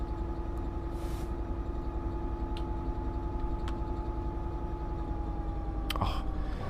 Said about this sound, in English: I just love the change and momentum of the build up of the engine.